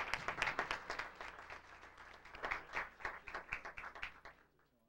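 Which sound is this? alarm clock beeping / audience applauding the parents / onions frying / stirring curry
audience applauding the parents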